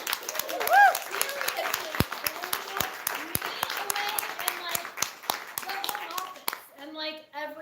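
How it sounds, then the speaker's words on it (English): Applause from an audience of women and colleagues at a company recognition gathering, scattered claps under a busy room with children's voices and chatter, ending in a brief burst of clearer speech. "I would just love a round of applause for the women in this room."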